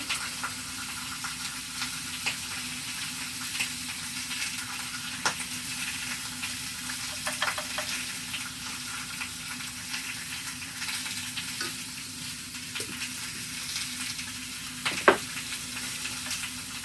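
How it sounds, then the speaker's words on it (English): Butter and flour cook in a skillet with a soft, continuous sizzle, punctuated now and then by the light scrape of stirring, close and steady with no talking. "what we're doing now is just cooking that flour"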